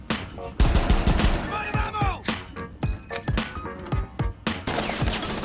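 Bursts of gunfire and sharp individual shots from a Rainbow Six Siege match ring out close and loud, irregular volleys with hard impacts and short gaps, mixed with game effects.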